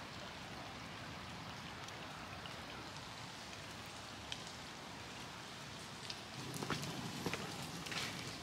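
Steady rain falls at Hiroshima Castle in Japan, a constant soft hiss of drops pattering on wet surfaces, with a slightly heavier, closer spatter toward the end and no voices.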